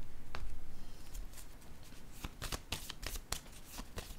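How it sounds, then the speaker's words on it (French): Tarot cards are shuffled and drawn from a deck in a series of short, crisp papery riffles and snaps that grow more distinct toward the end, close up with no talking. "je vais piger une autre carte dans la zone de l'argent."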